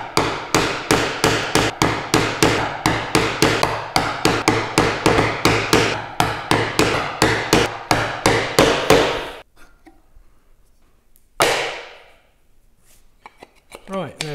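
Hand cutting a through mortise with chisel and small hammer: a rapid, steady run of sharp close taps for about nine seconds, then quiet with a single louder knock near the end.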